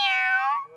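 A voice imitates a cat, giving one drawn-out, close, clear meow that trails off; no other voices.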